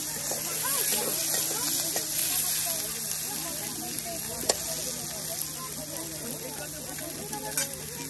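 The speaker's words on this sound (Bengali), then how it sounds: "আর এগুলি কিন্তু আবার তেলে আপনার ভেজে নেওয়া হচ্ছে।" Chopped chilli and onion frying in oil in a riverside cooking setting, a steady bright sizzle running throughout, with a voice talking over it.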